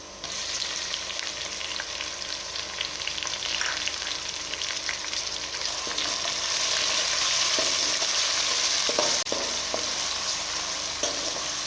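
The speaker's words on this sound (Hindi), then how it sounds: "थोड़ी देर हम टमाटरों को फ्राई करेंगे।" Tomatoes fry with golden-brown onions in a pan, a close steady sizzle that grows louder midway, broken by a few spatula scrapes and taps.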